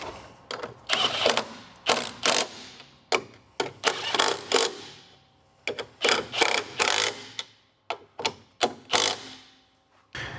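Ratcheting wrench tightening the lock nuts on a 2004 BMW 325i front strut, in repeated bursts of close, rapid clicking separated by short pauses.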